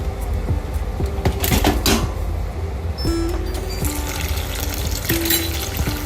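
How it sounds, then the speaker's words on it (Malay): Curry ingredients stirred with water in a hot wok, giving a close wet sizzle and trickle with repeated clanks of a utensil against the pan throughout. "gaulkan dulu dengan air."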